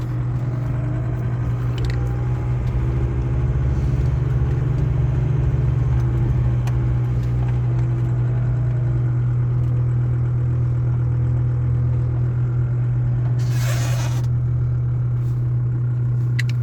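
A car engine idles steadily and loudly at close range on a farm before being driven onto a weighing scale, a constant low drone with light clatter and no talk.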